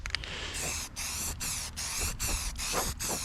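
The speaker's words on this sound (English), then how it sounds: "I am spraying this pretty close and wet just so it like gets that gloss finish." A steady hiss of spray paint from an airbrush-style gun coats a BMW E36 hood, close and continuous, broken into short passes by brief regular pauses.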